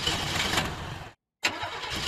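A car whose engine has died cranks as it tries to start, a loud close churning burst that cuts off abruptly, falls briefly silent, then resumes.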